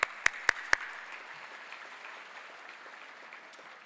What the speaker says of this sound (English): Let's give the ACI a round of applause.